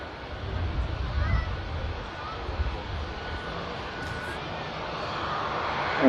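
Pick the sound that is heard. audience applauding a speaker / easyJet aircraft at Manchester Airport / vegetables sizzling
easyJet aircraft at Manchester Airport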